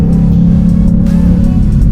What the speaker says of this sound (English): I don't know if you're going to be able to hear me through this sport exhaust